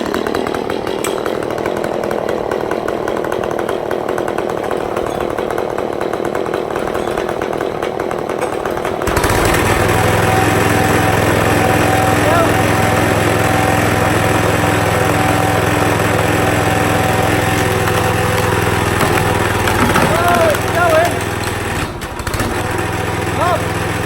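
A chainsaw is pulled to life partway through and then runs loudly and steadily at close range, its engine note wavering as it revs, with faint talk in the background.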